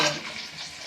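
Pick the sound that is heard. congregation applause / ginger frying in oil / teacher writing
ginger frying in oil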